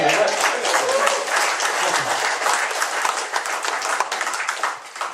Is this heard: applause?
yes